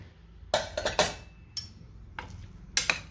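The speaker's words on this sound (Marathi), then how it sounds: "आता मी कुकरचं झाकण काढते" A pressure cooker lid comes off after three whistles and full pressure release, giving a few sharp metallic clinks and clanks close by, spaced irregularly over a few seconds in a quiet kitchen.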